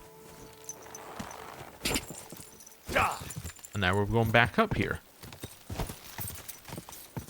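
Horse hooves clip-clop in Kingdom Come: Deliverance II, a few sharp hoof strikes followed by a brief whinny, with someone talking over parts of the sounds.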